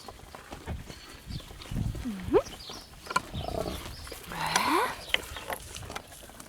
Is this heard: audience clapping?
no